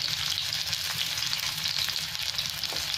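Chopped onion frying in hot oil for chowmein gives a steady, close, dense sizzle that crackles without pause throughout; no one speaks.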